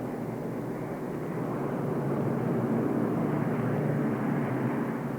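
Soviet military propeller planes of 1941 flying over the Kremlin give a continuous droning engine roar, steady and moderately loud throughout with no voices.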